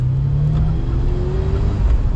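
A 1992 Ferrari 348 TS with a 3.4-litre, 300 hp V8 engine, driving. The engine drones loudly and close by, its pitch climbing steadily as the car accelerates.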